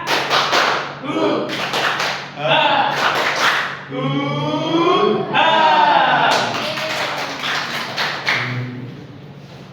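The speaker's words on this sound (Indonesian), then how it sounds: "Yuk, lagi yuk. Tepuk semangat." Students in a classroom perform a rhythmic spirit clap routine, sharp patterned claps and short chanted shouts alternating with a teacher's voice leading them.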